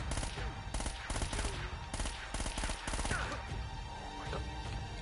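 Repeated bursts of gunfire in the Uncharted video game, loud and close, arriving in clustered volleys over steady background noise.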